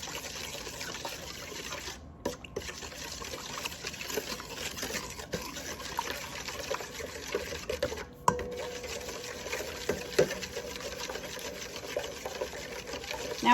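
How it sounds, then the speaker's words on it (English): Butter and canola oil whisked together in a baking bowl for cinnamon roll dough, a steady scraping swish that runs continuously with a faint watery sheen and a couple of brief pauses. "I'm going to whisk this together."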